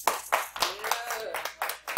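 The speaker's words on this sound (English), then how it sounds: "Let's give a round of applause to the class," A small live class clapping in a classroom, a few sparse, uneven hand claps with voices talking over them.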